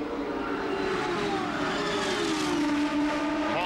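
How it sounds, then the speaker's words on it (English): IndyCar race cars of 1994 CART at Nazareth cornering through turn 2 with understeer, a loud continuous engine drone with a tonal tire squeal sliding down in pitch near the end, no talk. "You can hear the tire squeal, and that's understeer or push through that turn 2."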